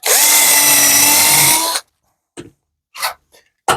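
A power drill drives a screw in one sustained, close whine lasting nearly two seconds, then stops, followed by a few brief knocks and handling clicks.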